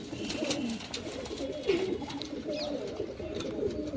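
Pigeons cooing softly, several overlapping low murmuring calls close by, over a faint rustling background.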